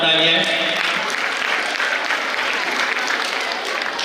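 Vigorous audience applause at an Islamic quiz contest, dense clapping from many hands at close range, with a brief voice at the very start before the clapping carries on steadily.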